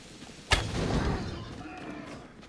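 A single shot fired in the Assassin's Creed Odyssey video game: one sharp, fairly loud crack followed by a low rumbling decay that fades over about two seconds, heard alone.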